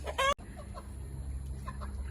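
Sussex chickens on a laying-hen farm cluck, with one loud, close call near the start followed by softer, scattered clucks over a steady low background hum.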